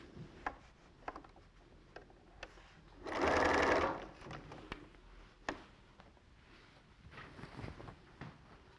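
A sewing machine runs a long seam in one short, loud burst of rapid stitching close by, surrounded by quiet handling clicks and taps of pins and fabric before and after.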